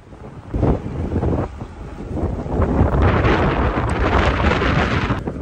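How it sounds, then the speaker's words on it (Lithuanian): Strong coastal wind on Fuerteventura roars and buffets the microphone of a gravel bike ride in heavy gusts, a dense continuous rumble that swells louder in the second half, with no voices. "ten, kur yra vanduo, ten yra ir stiprus vėjas"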